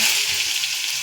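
Chopped onion hitting hot oil with mustard seeds and cumin for a green cluster bean and potato dish, a loud, close, continuous hiss filling the short moment.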